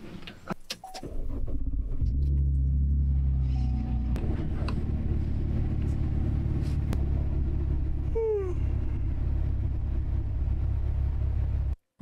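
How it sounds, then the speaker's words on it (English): A car engine cranks briefly and catches, then settles into a steady low idle rumble that runs close and loud until cutting off at the end. "So it's really cold, so I'm gonna turn on the car."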